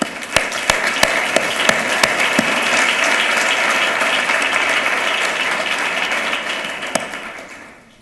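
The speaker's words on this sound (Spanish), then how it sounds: "un aplauso para Adolfo Suárez" Audience applause for Adolfo Suárez at a persuasion talk, a dense sustained wash of clapping that holds steady for several seconds and tapers slightly at the end, with a few sharper claps standing out.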